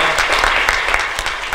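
Brief burst of audience applause after a talk at an OpenStack tech session, a short stretch of steady clapping from the crowd.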